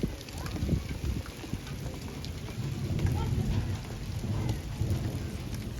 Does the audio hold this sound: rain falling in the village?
yes